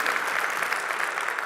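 Dense, sustained applause from a keynote audience welcoming Bob Cabeza of the YMCA of Greater Long Beach, many hands clapping evenly and loudly.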